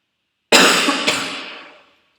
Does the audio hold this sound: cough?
yes